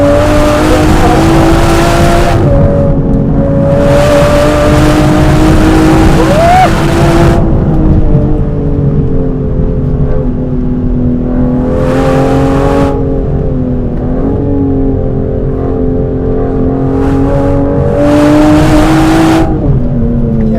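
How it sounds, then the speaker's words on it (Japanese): 2025 Aston Martin Vanquish engine driven hard on a winding road, a loud continuous drone that rises and falls with throttle and gear changes, heard close from inside the car. "アストンマーティンのフラッグシップの走りですよね"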